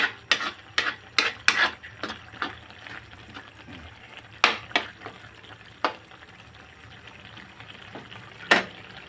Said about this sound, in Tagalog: Halo ulit ho. Halo na halo.